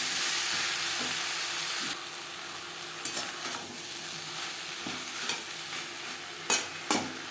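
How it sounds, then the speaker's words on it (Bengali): Ridge gourd, onions and vegetables are stirred in a frying pan: a soft steady sizzle runs underneath while a spoon scrapes and turns the mix in several distinct, fairly close strokes, with no talking. "সবজির সাথে পেঁয়াজের সাথে ধুনুল বেশ ভালো করে মিক্স করে দেবো।"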